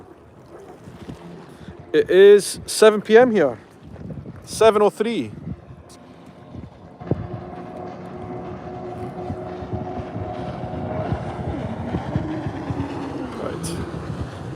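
Jet skis run out on open water at 7 p.m., a faint, steady engine drone humming in the distance that comes in after someone speaks briefly and then carries on alone, slowly building.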